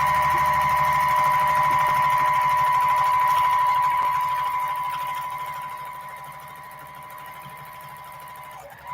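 A sewing machine runs steadily during free motion ruler quilting, a fast even mechanical hum with a tonal whine, loud and close, then slowing and easing off in the last few seconds.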